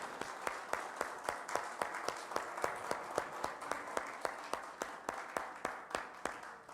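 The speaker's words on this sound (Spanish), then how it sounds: "debíamos dar un aplauso al Señor" A church congregation claps in a steady, even rhythm, each sharp clap distinct, building into sustained rhythmic applause through a reverberant room with no voices over it.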